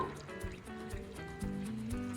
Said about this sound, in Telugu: ఇప్పుడు ఇందులోకి 1 గ్లాస్ పాలు వేసుకుందాము.